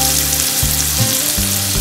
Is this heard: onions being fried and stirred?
yes